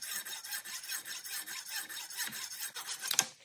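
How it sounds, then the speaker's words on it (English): Metal file rasping a small X mark into a Moen 1222 faucet cartridge, a steady run of close, rhythmic scraping strokes with a sharper scratch near the end, no talk. "just took my file and made a little X where I'm going to cut it off"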